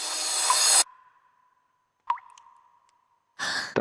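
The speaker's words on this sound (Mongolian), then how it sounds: "Дээрээс нэг ус тусаад байна" Faint watery plops of water dripping from above and a steady low hum in a quiet space in the horror video game Dread Neighbor, bracketed by bursts of hissy noise at the start and end.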